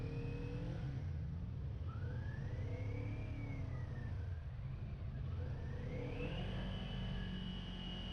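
A 2019 Kawasaki Z400 motorcycle engine revs up and shifts through the gears as it is ridden, steady wind noise underneath and pitch rising and falling repeatedly.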